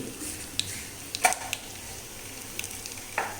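Quiet crackling and popping of urad dal and mustard seeds sizzling in oil as tempering for tomato chutney, with scattered sharp spits over a soft steady hiss.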